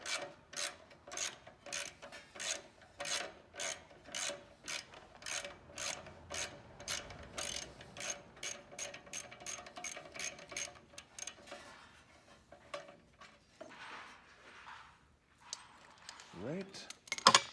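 A ratchet runs in a bolt during muffler work on a vehicle, a steady rapid clicking that continues for several seconds before it gives way to rustling and handling noises.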